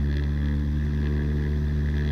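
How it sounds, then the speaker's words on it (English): Small airplane engine at full throttle for a short-field takeoff, a loud, steady, droning roar without pause and with no talking. "so here we go, full throttle."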